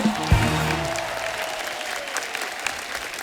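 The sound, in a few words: studio audience applause for guests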